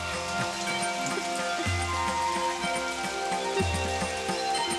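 Steady rain falls throughout as a dense, continuous hiss, moderately loud and unbroken, with low sustained tones beneath it.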